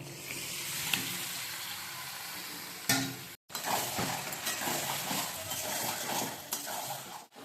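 Chicken pieces fry in oily, spiced paste while being stirred in a pan for Hyderabadi green chicken, a steady sizzle broken by scraping spatula strokes and a brief clatter, with a short gap midway.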